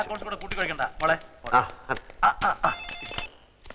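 An old-style telephone rings in a scene from an old Malayalam film, its bell trilling in short bursts beneath lively overlapping voices of people talking.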